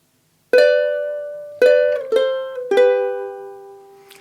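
Ukulele plucking the opening measure of "Hard Times Come Again No More", four distinct ringing notes spaced about a second apart, close and clear with each one decaying before the next.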